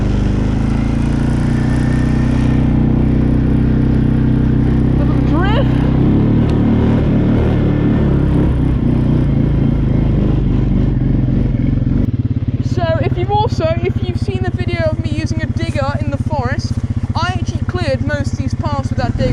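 A quad bike engine revs and drones loudly while riding rear-wheel drive across a field, its steady close rumble changing pitch as it accelerates, with someone talking over it in the second half.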